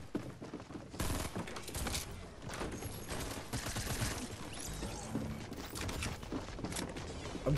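Rapid, dense gunfire from the video game Fortnite, loud and continuous bursts layered with clattering mechanical effects, close and filling the whole stretch without talk.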